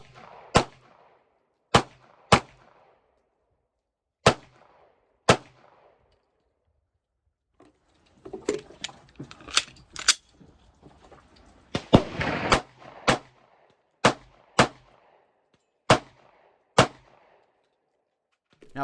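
Handgun shots from a CZ 75 SP-01 Phantom fired outdoors, about a dozen sharp, loud reports spaced unevenly, with a burst of rustling and handling noise midway between shots.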